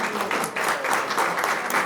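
Brief burst of audience applause at a live improv theatre show, many hands clapping together in a steady, fairly loud wash.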